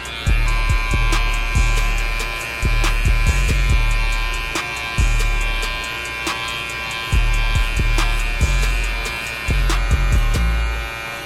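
Electric hair clipper buzzing steadily close up during a self-administered buzz cut, its hum rising and dipping in repeated passes as it runs through hair, with no talking.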